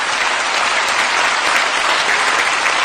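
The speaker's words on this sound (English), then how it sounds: "Would you kindly give them a warm round of applause?" Warm, sustained applause from a summit audience for African presidents at the Dakar 2 summit, a dense, steady wash of many hands clapping close and loud for the full stretch without voices.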